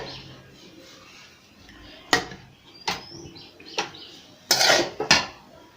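Crab gravy with tamarind water being stirred in a cooking pot, sharp metallic clinks and scrapes of a utensil against the pot coming in a handful of separate bursts over a quiet kitchen background.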